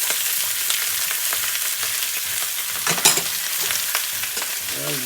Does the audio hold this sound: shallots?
yes